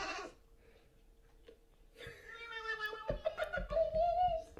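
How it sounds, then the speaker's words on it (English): A cat meows in a drawn-out, wavering call that rises in the second half, preceded by quieter sounds and a faint tone, fairly close and clear. "Cats are absolutely hilarious."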